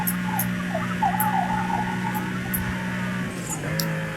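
A police car siren in the racing video game Most Wanted wails over steady engine drone, rising and falling in pitch, with short bright clicks scattered through the sustained game audio.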